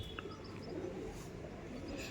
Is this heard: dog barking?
no